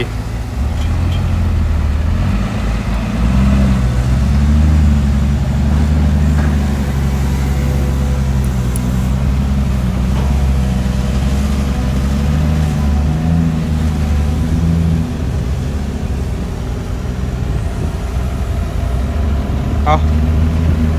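Steady low diesel rumble of an Isuzu six-cylinder direct-injection engine on an excavator working a dirt pit, loud and continuous throughout, with someone talking over it.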